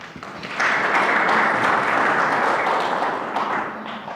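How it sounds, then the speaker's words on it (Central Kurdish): Audience applause at a Kurdish literary event, a steady wash of many hands clapping that swells in quickly, holds for a few seconds and tapers slightly, heard close without talk. "دیسان چەپڵەیەک"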